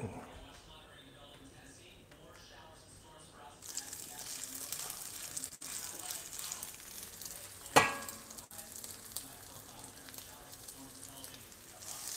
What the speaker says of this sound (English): I'm going to add that to this hot skillet